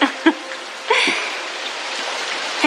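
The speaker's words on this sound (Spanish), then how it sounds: "Entonces tendremos que esperar a que pare de llover." Rain falls steadily outside a car, a soft, continuous patter that runs under brief bursts of talking.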